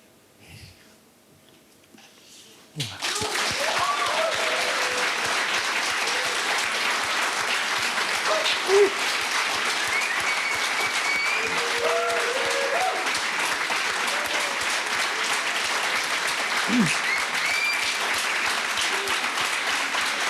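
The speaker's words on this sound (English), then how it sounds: "you're whooping and applauding the sentiment" A live podcast audience at a Sir Ian McKellen appearance bursts into loud, sustained applause with scattered whoops after a quiet opening moment, continuing steadily for the rest of the stretch.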